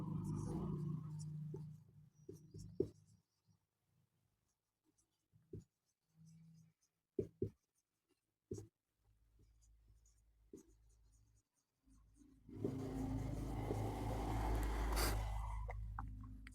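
A pen scratches across paper in short bursts of writing between pauses, close and quiet, with someone speaking at the start and a louder rustle toward the end.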